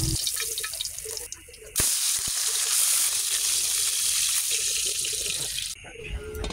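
Galunggong fish frying in a pan, a loud steady sizzle and crackle that swells for several seconds, with clatter and quieter pan noise before and after, close by and with no voices.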